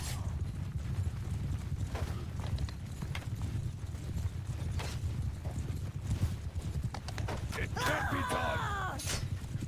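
Horse hooves gallop in the medieval battle game Calradic Campaign, a rapid, continuous clip-clop drumming up close with battle noise and a brief whinny-like cry near the end.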